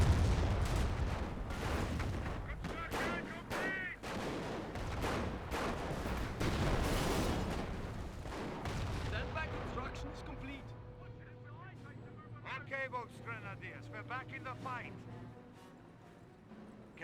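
In the Company of Heroes real-time strategy game, an artillery barrage and gunfire crash in dense, repeated blasts and shots. The barrage is loud at first, then thins to scattered shots as a voice talks over it.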